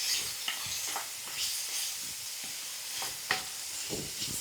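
Vegetables with sweet corn and salt being stirred in a hot pan over medium-high flame, with a soft continuous sizzle broken by repeated scraping strokes of the spoon, close and moderately loud, with no talking.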